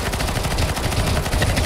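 Continuous rapid gunfire from a Counter-Strike: Global Offensive zombie escape map, dense loud automatic bursts from many players firing at once with no pauses.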